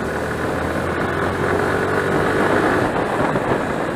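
Suzuki Gixxer 155cc motorcycle engine running and accelerating on a test ride, a steady, fairly loud drone with a slight rise in the middle, mixed with wind and road noise and no talking.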